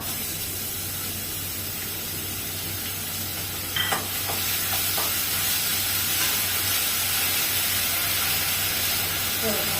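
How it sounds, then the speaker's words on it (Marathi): Garlic and onion frying in a pan over high heat, browning to a reddish colour for a lemon coriander soup, a steady broad sizzle and hiss throughout with a few brief clinks of stirring near the middle. "थोडा कांदा लालसर थोडासा परतू द्यायचा आहे"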